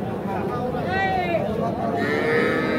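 A young bull calf moos loudly and close by at a crowded cattle market in Aftabganj, giving two drawn-out calls over steady crowd chatter and bargaining voices.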